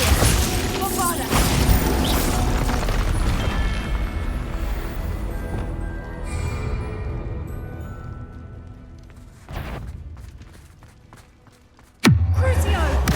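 A Bombarda blasting spell in the Hogwarts Legacy video game booms amid dense layered combat noise, fading toward the end before a sudden loud burst near the close; a voice calls out over the din.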